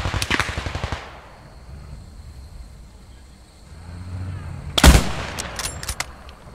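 Rapid bursts of automatic gunfire from the Post Scriptum video game open loudly, fade into a quiet stretch of ambient noise, then return with another sharp volley followed by scattered shots.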